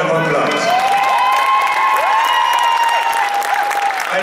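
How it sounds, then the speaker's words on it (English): A large crowd of Grenadians at Brooklyn College bursts into loud, sustained applause and cheering for Prime Minister Keith Mitchell, with shrill whistles sliding over the dense clapping and shouts close around. "Give him a round of applause"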